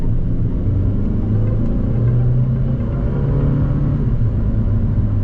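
A 2015 Fiat 500L Urbana Trekking with a six-speed automatic accelerates with the throttle floored, giving a steady, loud engine drone and road rumble heard from inside the cabin with no pause.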